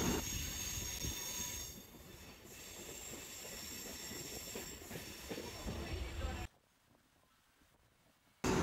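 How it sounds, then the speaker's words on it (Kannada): A long passenger train pulls away from platform 3, wheels and carriages rumbling with faint squeals, steady then dropping off abruptly before a sudden return at the end. "so train ಹೊರಟಿತ್ತು"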